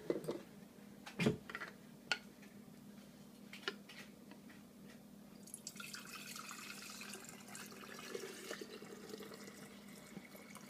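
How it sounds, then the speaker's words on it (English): Milk drains off homemade butter into a jar, a soft, faint trickle and pour with a few small clinks near the start. "I drain the milk off the butter very carefully"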